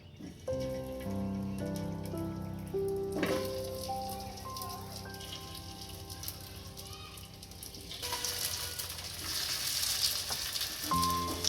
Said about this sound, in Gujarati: ગબગોટાની લોઢી જે આવે એમાં થોડું થોડું તેલ નાખી અને શેકી લેશું